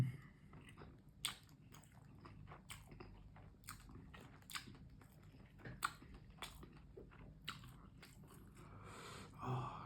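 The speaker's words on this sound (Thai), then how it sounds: "ไส้กรอกแดงอันใหญ่นี่ ทานด้วยกันนะ" Someone bites and chews a big red sausage close to the mic, with repeated crunchy, wet bites and mastication in an irregular rhythm, quiet and alone without talk.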